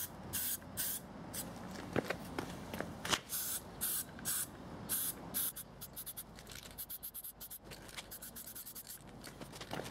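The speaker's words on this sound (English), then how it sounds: "I'll go around and spray paint the whole thing again, making sure that I get a covering on every side" Spray paint hisses onto about fifty plastic miniatures in bursts. The short blasts and longer sustained sprays come in an irregular rhythm and sound close and loud, with no talking.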